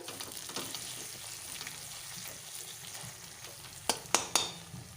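Spice paste for a doi katla yogurt fish curry fries in a pan with a quiet, even sizzle close by. Three quick metallic clinks come near the end, and there is no speech.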